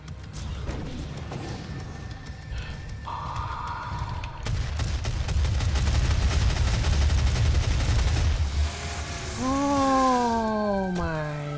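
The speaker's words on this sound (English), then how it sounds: "Super shotgun, guys." A super shotgun fires in the video game Doom. Loud, booming blasts and dense game combat noise build to a sustained roar, and tonal in-game effects enter near the end.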